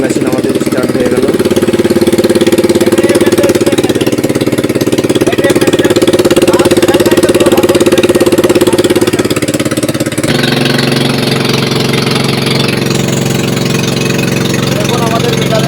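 Small petrol engine on a Toto e-rickshaw, newly started, runs at a steady loud idle with a constant drone, then shifts to a slightly different, even pitch partway through.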